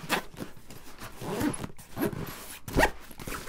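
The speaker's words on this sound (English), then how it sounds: "zip it all up." A Thule Enroute camera backpack is zipped shut in several quick, close rasping pulls, separated by brief pauses and soft handling noises.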